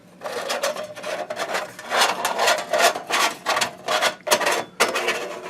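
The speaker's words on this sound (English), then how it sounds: "Reinstall the back cover." QS-SP-4 device back cover sliding onto its chassis, a series of close scraping, rasping rubs in uneven bursts, some with short gaps, loud and alone with no talking.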